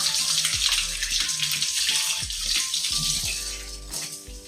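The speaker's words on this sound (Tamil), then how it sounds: "கை கழுவி வச்சா நான் கழுவி விடுறேன்" Hands are washed under running water with soap, a steady close splashing stream broken by repeated bursts and slaps as the hands move under the tap, with no talking.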